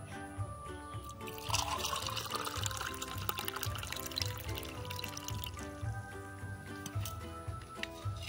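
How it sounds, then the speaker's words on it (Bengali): Aam panna, a mango drink, is poured over ice cubes in a steady liquid splash that runs for several seconds, close by and fairly quiet, with no talk. "ঢেলে নিচ্ছি শরবতটা।"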